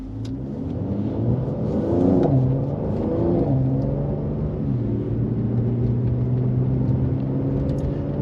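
A Mercedes-AMG C43 sedan in Sports Plus mode accelerates hard along a twisty road, its engine note climbing and dropping through gear changes in a steady, loud, close-up drone with no talking.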